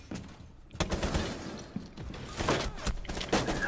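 Gunfire in the tactical shooter Rainbow Six Siege comes as dense, rapid volleys of shots with thuds between them, loud and fairly close, with no voice over it.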